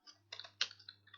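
A few quick keystrokes on a computer keyboard while writing a comment in MATLAB, crisp close clicks in a short irregular burst over a faint low hum.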